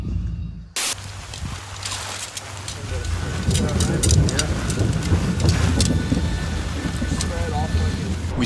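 Steady hiss of falling rain at a campsite builds after a sharp knock, with muffled voices and rustling mixed in beneath the downpour.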